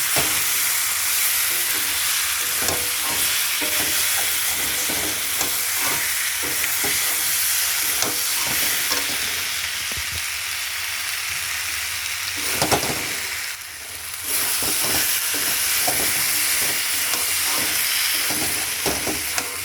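Spice paste with tomato sautéing in a hot pan before meat legs are added, a continuous dense sizzle broken by repeated scraping stirs and a brief dip near the end, with no talking.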